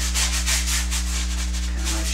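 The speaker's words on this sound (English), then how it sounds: "don't be afraid to really hammer down with that brush to really get your oil and your paint to move" A paintbrush is pressed hard and scrubbed through oil paint on a canvas for an abstract piece, giving quick rhythmic bristle rasps up close over a steady low hum.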